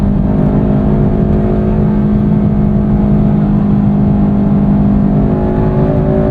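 A 2009 Honda Civic Si engine pulls hard under steady acceleration, a loud, constant, close-miked drone heard from inside the car.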